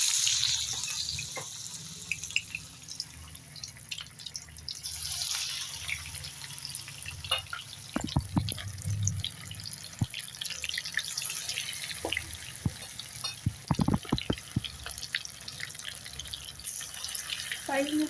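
Battered fish pakoda pieces fry in hot oil with a steady, close sizzle and scattered sharp pops and crackles that grow busier midway.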